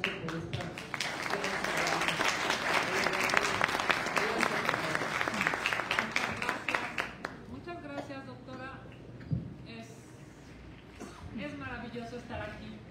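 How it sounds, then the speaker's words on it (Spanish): An audience applauds at a book presentation about women changing history, with dense, loud clapping that fills the first half and then thins and fades as a voice begins speaking over the quieter room. "recibirla con un fuerte aplauso"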